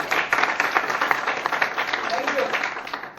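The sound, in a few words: audience applause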